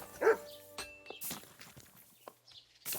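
A dog in the Kingdom Come Deliverance 2 video game gives one sharp bark near the start, followed by scattered footsteps and hoof thuds in a quiet outdoor scene.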